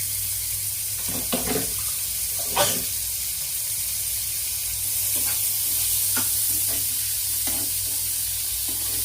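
Rice stir-fried with fried onions in a pan in a shared PG room kitchen, soft scraping and stirring strokes over a faint steady sizzle, with a few louder clinks of the spatula against the pan and no talking.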